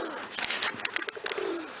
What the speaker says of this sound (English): But there are the birds.